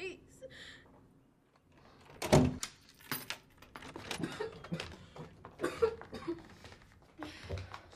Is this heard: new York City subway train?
no